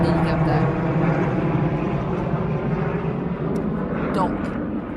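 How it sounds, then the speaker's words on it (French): A helicopter drones steadily overhead, a loud broadband roar filling the whole stretch without pause. "Désolé, un hélicoptère."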